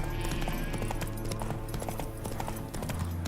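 Horse hooves clip-clop on the ground in The Witcher 3: Wild Hunt, an irregular run of close, crisp hoofbeats over a low ambient game hum.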